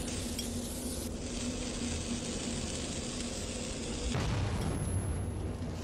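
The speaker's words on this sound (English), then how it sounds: "Oh, come on, that grenade hit you." A grenade blast in the video game Metro 2033 rumbles through a dense, continuous wash of in-game noise, with a louder low burst arriving near the end.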